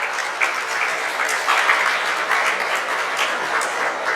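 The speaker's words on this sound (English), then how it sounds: "Can we have a huge round of applause for Ms. Reshmi Patra, who's here with us." Steady applause from an audience, dense clapping filling the room at a constant level throughout.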